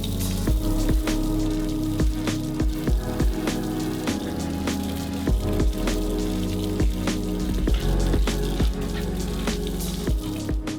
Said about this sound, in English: The next step is to rinse this off